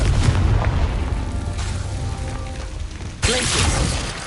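A Confringo explosion spell in the Hogwarts Legacy video game sets off loud booming blasts amid heavy rumbling game noise. A sudden sharp burst hits near the end and is followed by a sustained roar.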